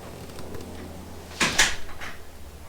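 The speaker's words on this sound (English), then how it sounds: "close the door, please" A car door shuts during a dash cam installation, giving one solid thump with a quick rattle just after, heard over a steady low background hum.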